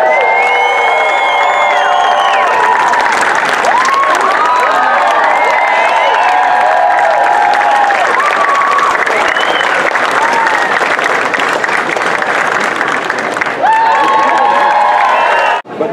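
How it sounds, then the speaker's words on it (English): A loud Boston crowd applauding and cheering, with whoops and shouted voices over sustained clapping that builds and swells through the whole stretch before cutting off abruptly at the end. "If we pull this off, give us a real Boston round of applause"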